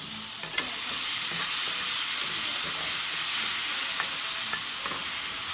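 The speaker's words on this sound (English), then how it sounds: "Just want to mix it all up" Tomato sauce is stirred in a hot pan, a loud continuous sizzle and hiss marked by scraping, clinking stir strokes at an irregular pace. No voices are heard.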